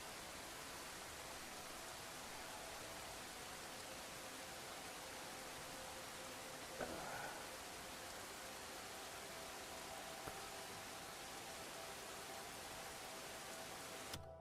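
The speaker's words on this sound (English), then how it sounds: "It's raining." Steady, faint rain hisses evenly throughout in the video game Crimson Desert, a soft continuous wash with one small clink partway through and no voices.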